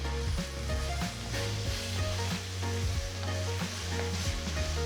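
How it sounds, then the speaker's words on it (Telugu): Vegetables for Singapore fried rice sizzle steadily in a hot pan as soy sauce, chilli sauce and salt are stirred in, a continuous close frying hiss with repeated scraping stirs throughout. "సో ఇప్పుడు నేను 2 టీ స్పూన్ల soya sauce, 1 table spoon chilli sauce, 1 tea spoon ఉప్పు వేసి కలుపుతున్నాను."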